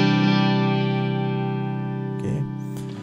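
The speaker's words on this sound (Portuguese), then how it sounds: "Esse Binson eu gosto muito, que é uma câmera de eco dos anos 70." Sustained distorted electric guitar chord run through a Kemper profiler's Binson 1970s tape echo delay emulation, ringing loud and fading slowly with repeating echoes, then a short strum near the end.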